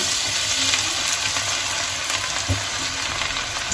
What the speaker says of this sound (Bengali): এবার আমি এর মধ্যে রসুন কুচিটা দিয়ে দিলাম